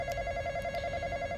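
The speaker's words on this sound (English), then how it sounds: "Phone ringing." A telephone rings inside the Roblox game: a steady electronic ring with a bright sustained tone and faint pulsing, loud and alone with no talking.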